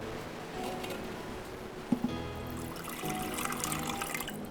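Water is poured into a clay pot for biryani, a short trickling splash that follows a sharp clink and continues as a steady light pour.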